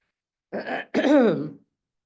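A person clears their throat twice in quick succession, a short rough burst followed by a longer, voiced one, close to the microphone.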